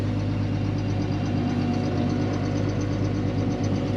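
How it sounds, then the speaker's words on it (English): A tractor engine runs steadily to power a feed grinder on a ranch, a continuous low rumble with an even, unbroken drone throughout and no speech. "See if we can get this grinder going without blowing up this tractor."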